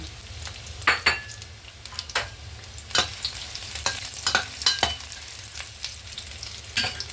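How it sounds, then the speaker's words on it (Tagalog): Chopped onion and garlic sizzle in hot oil in a wok as they are stirred, giving a steady frying hiss punctuated by repeated sharp scrapes and clanks of the spatula against the metal, close and without talk. "Maglagay na natin ang ating sibuyas at ang ating bawang. Ayan, halo-haloin lang natin yan."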